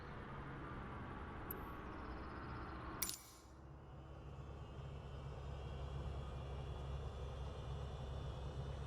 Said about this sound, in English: Olivia, time to get this airplane off the ground.